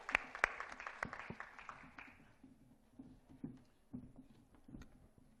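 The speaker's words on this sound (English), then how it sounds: "A big round of applause for you" Audience applause at an awards plenary session, a fairly dense round of clapping that is strongest at first and then thins into scattered claps as it dies down.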